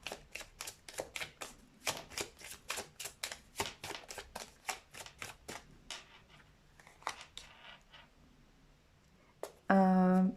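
A deck of tarot cards is riffled and shuffled in a pick-a-card reading, giving a rapid train of crisp close snaps that thins out into softer slides, followed by a brief loud rustle at the end.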